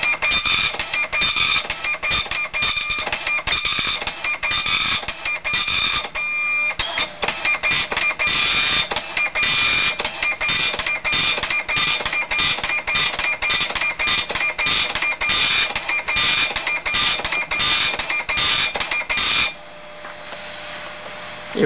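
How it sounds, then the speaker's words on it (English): An Epson FX-86e dot matrix printer printing a test page from a real computer, loud rapid buzzing bursts of print-head passes in a steady line-by-line rhythm, briefly pausing, then stopping near the end. "So now we have our printer test page."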